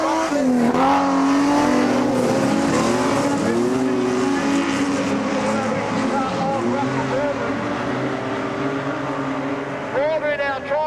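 Modified production race cars, including a Falcon, roar around Kingaroy Speedway in a loud, continuous engine drone with rising and falling revs and some tyre noise, while a commentator talks throughout.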